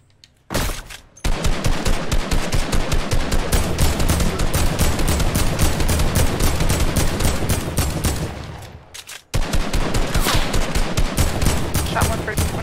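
Rapid automatic gunfire rattles in a Fortnite match, loud and close, in two long sustained bursts split by a brief pause near the end.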